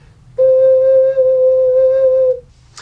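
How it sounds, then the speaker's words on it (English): A six-hole ocarina sounds its low C with all six holes covered, two at the back and four at the front: one steady, pure, breathy tone held for about two seconds. The note stands alone and ends in a brief soft rustle. "Low C is when you cover every single hole on your ocarina,"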